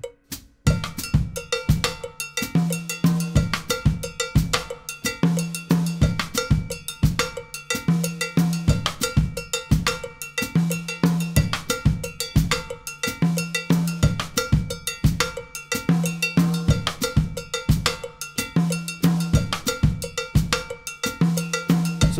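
A drum kit plays a Mozambique groove, with a cowbell pattern prominent over repeating kick and tom accents, a steady, loud, close rhythm throughout with no talking.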